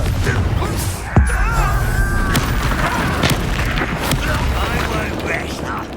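Confringo fire spell cast in the Hogwarts Legacy video game, a sharp booming blast near the start amid a dense, continuous clatter of combat effects and game music.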